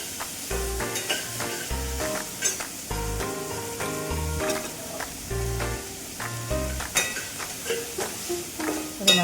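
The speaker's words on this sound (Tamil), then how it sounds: "கேரட் வதங்கட்டும்" Carrots and peas sauté in a pan with a steady sizzle. A utensil repeatedly stirs and scrapes across the pan in irregular knocks and clinks, with no one talking.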